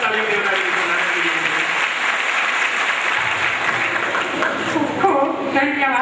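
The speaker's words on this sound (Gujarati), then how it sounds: "ફરીવાર તાળીઓ બજાવી." Applause fills the hall at a girls' school award ceremony at M V Patel Kanya Vidhyalay, a loud, sustained wash of clapping with voices mixed in.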